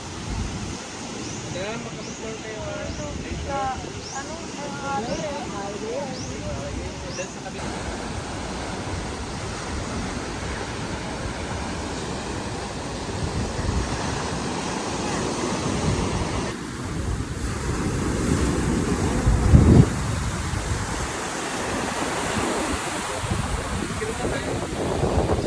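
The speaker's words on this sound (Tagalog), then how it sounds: "Lakas ng alon." Loud, continuous roar of strong surf at Boracay with broadband wash and wind buffeting, waves surging and breaking nearby; voices are briefly audible early on.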